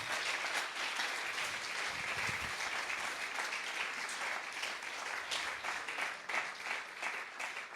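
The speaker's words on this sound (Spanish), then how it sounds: "Denle un aplauso grande al Señor." A church congregation applauds steadily and loudly throughout, a dense wash of clapping from many hands with no break in the sound.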